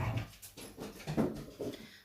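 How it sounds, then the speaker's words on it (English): Several pet dogs playing roughly indoors, with scuffling, growls and short whimpers in uneven bursts, close and fairly loud. "Sorry, my dogs are playing. They're very noisy."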